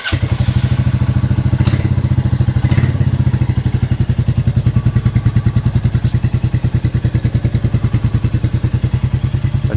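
Royal Enfield Classic 350 Reborn motorcycle idling indoors through a different aftermarket exhaust, a loud, steady, rapid thumping single-cylinder beat with a couple of brief blips early on, no talking.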